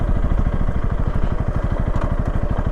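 Honda CRF300L dirt bike engine thumping steadily at low revs in a rapid, regular single-cylinder pulse, close and loud, while riding off-road through the Australian bush.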